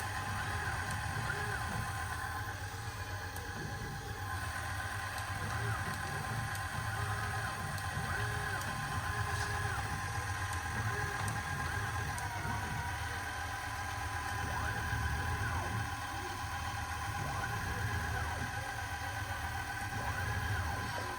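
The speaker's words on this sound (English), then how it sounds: "here is z-axis moving and x-axis is moving." A CNC lathe traverses its z-axis and x-axis, giving a steady droning machine hum with sustained tonal whine lines. The sound is continuous and even throughout, with no voices.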